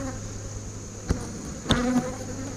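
Honey bees in the bottom box of a backyard hive buzz steadily and close while the hive is open and they are disturbed, a dense drone with a couple of louder passes as bees fly near.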